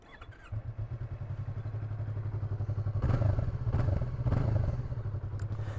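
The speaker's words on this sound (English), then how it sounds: "Let's get it started up, shall we?" A 2020 Yamaha MT-03 motorcycle cranks and fires up after a short pause, settling into a close, rhythmic idle that swells with a few throttle blips in the middle before steadying again.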